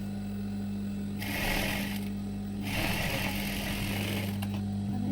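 A sewing machine stitches a blouse seam in two steady, close mechanical runs of about one and three seconds. A brief pause separates them, and a constant low hum sits underneath.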